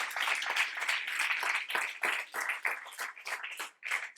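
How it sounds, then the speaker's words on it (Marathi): An audience in a lecture hall claps steadily for a few seconds, a dense patter of many hands that dips briefly near the middle and ends. "जोरदार टाळ्या याच्यासाठी."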